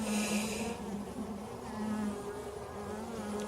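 Honey bees humming in a small nucleus hive opened for inspection, a steady close buzzing drone with no voices.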